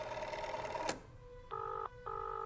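Two bursts of a telephone ringing on an old landline while a call goes to the operator, each ring a sustained electronic trill about a third of a second long with a short pause between, heard alone after a louder tonal passage.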